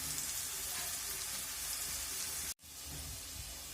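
Onions with a little salt frying in a pan, a continuous bright sizzle and crackle close up, briefly cut by a momentary dropout before resuming.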